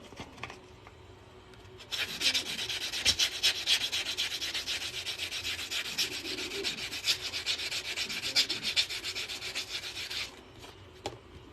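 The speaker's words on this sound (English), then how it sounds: "Now we got that nice and sanded down." A coin ring is sanded by hand, making a steady, close abrasive rubbing of quick back-and-forth strokes that starts after a short quiet pause and stops near the end, with no speech.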